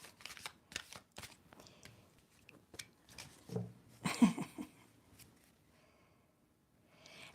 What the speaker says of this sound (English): now I shuffled and this card was at the bottom